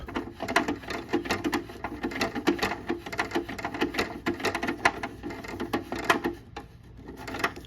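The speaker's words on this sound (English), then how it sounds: "I'm gonna put the screw back here and get this tightened up" A screw being tightened on the back of a Midea MAD50PS1AWT dehumidifier makes dense, rapid clicking and light rattling that runs steadily and close by throughout, with no talking.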